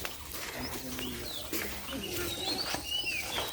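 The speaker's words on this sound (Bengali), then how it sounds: "কি সুন্দর পাখির ডাক" Birds call and chirp repeatedly among the bushes of the Malnicherra tea garden in Sylhet, with thin whistled notes at moderate distance over steady outdoor ambience and no talk.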